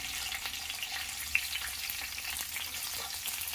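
Onions sizzling in a hot pan while making vegetable upma, a steady broadband hiss of frying close by with a few soft stirring clicks and no talk.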